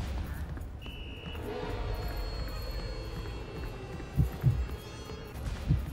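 In the White Day remake horror video game, a heartbeat sounds as a few soft, low double thumps near the end, over a steady dull hum.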